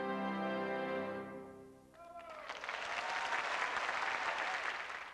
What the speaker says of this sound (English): comes the applause